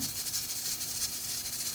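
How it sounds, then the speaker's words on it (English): Steam hisses out of a pressure cooker on a stove in a steady, fairly loud release that runs without a break and with no voices. "as you can hear the steam is going off for the pressure cooker."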